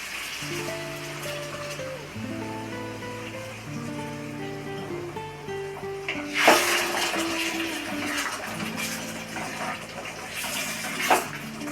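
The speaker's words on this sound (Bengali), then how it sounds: "আবারও আমি ওই জলটাই এখানে ব্যবহার করলাম" Water pours and splashes into a cooking pot for chole, a continuous trickling stream with a brief louder gush midway and soft clinks of the vessel.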